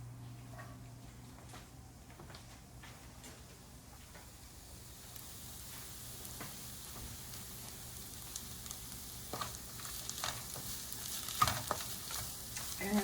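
Red peppers and onions sauté in a pan, a quiet steady sizzle with scattered stirring scrapes that grows louder and busier toward the end, no voices.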